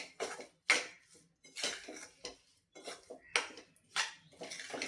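Roasted coconut being mixed into roasted flour in a pan, with repeated close scraping and clinking of a spoon against the pan in irregular bursts and short pauses.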